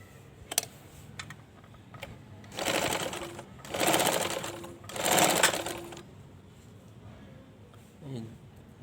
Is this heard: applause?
no